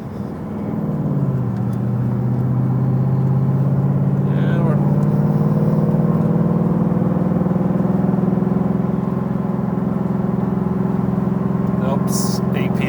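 A 1967 Shelby GT350 engine pulls steadily uphill on Pikes Peak, its low drone close and continuous as revs slowly climb for several seconds, with a faint high chirp near the end.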